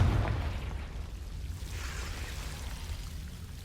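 A Confringo blasting spell in Hogwarts Legacy goes off with a short, low thump, then leaves a rumbling, roaring wash that hangs at moderate loudness for several seconds.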